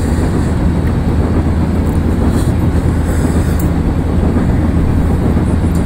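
Union Pacific 3985 with Union Pacific Heritage Unit 1988 diesel helpers on the Tehachapi pass in Open Rails (ORTS): a loud, continuous rumbling roar of rolling train and engines, steady and close, with no talk.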